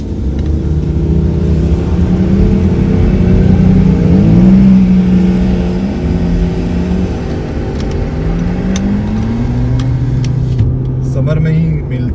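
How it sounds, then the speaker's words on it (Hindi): Sports motorcycles accelerate along a road in Canada, engines rising and falling in pitch as they pass, loud and steady, with a person talking over the traffic. "बाइक्स भी जा रही हैं यहाँ पे रोड पे, स्पोर्ट्स बाइक्स।"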